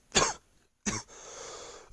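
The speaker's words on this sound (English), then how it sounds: "I don't know where that cough came from." Two sharp coughs from a man streaming a Minecraft session, close to the microphone, the second followed by a faint breathy tail; no speech.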